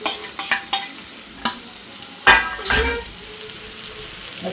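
Oyster mushrooms stirred in a frying pan while cooking theeyal, giving a close, steady sizzle with several sharp scrapes and clinks of a spoon against the pan.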